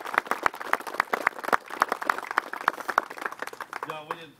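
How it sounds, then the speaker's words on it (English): An audience claps in steady, scattered applause, a run of sharp individual hand claps repeating throughout, with a voice speaking faintly near the end. "Give the Blue Knights a round of applause for being here today."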